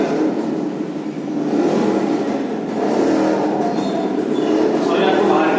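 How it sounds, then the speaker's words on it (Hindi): Steady traffic noise from vehicles passing on the road outside an upstairs classroom, a continuous broad rumble with engines swelling now and then, heard alone with no talking. "हमारी क्लास जो है वो ऊपर ही है और यहाँ से गाड़ियों का आना जाना लगा रहता है"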